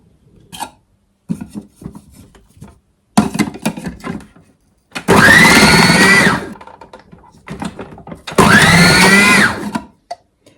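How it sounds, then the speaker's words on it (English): A food processor slicing vegetables such as cucumber and onion runs loudly in two long whining bursts, with clattering knocks and handling before them. "So much easier to do this with my food processor."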